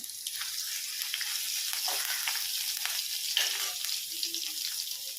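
Ginger and curry leaves fry in hot coconut oil with a soft, continuous crackling sizzle, fairly quiet, broken by a few light stirring clicks.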